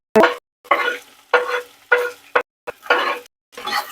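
Onions sizzle in a pan in short repeated bursts, each surge of frying noise separated by brief quiet, as if stirred in strokes; close and fairly loud.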